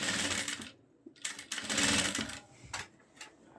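A sewing machine stitches a shalwar hem in short close bursts, whirring runs broken by brief pauses and a few faint clicks, with no voices.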